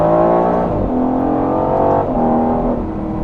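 An Aston Martin Vantage F1 Edition accelerates hard, its engine note climbing in pitch through quick gear changes, loud and close, with no talk.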